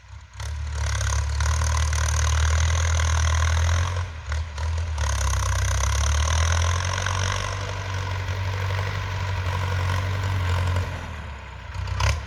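Old Ford 6610 farm tractor with its diesel engine running, a loud, steady close clattering idle with brief dips in level, heard alone without talk.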